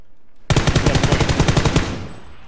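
Rapid automatic gunfire in a video game, a close, loud burst of about a dozen evenly spaced shots that stops abruptly and leaves a short ringing tail, with no talk over it.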